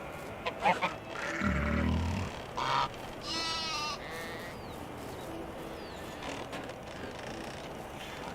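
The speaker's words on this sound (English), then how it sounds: "that pig noise definitely deserves to be in a horror game. Because that was super deep and bassy and kind of creepy." A deep, bassy pig grunt and squeal from the farm video game Medieval Dynasty, heard among bleating sheep-like calls and in-game ambience, loud and close at first, then fading.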